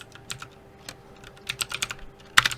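Someone types on a computer keyboard in quick, irregular clusters of close, crisp clicks that grow busier near the end, over a faint steady hum and with no talking.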